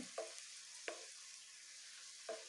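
Pieces of nendran banana fry in hot oil with a faint, steady sizzling hiss, broken by three brief soft pops, heard alone without speech.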